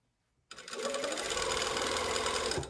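A sewing machine stitching fabric layers together for a lapped zipper starts abruptly after a brief silence and runs as a steady, close mechanical whir for about two seconds before slowing.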